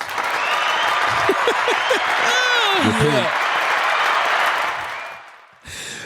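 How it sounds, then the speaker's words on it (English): A crowd applauds through a live talk show episode, steady hand clapping filling the background while voices talk and laugh over it. "Hand claps for us."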